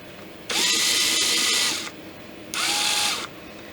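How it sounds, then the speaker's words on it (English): A power drill bores into the hard tip of a wooden ramrod for a Kibler Colonial flintlock kit, two close, loud whirring bursts of about one and a half and one second separated by a short pause. "Give yourself a place for the drill bit to grab a hold."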